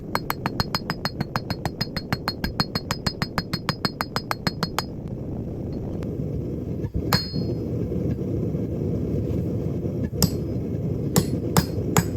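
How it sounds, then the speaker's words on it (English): A small hammer taps metal in a fast, steady series of bright ringing strikes while forging blacksmith tongs, then stops, followed by a few scattered clinks over a low background rumble. "Try this smaller hammer."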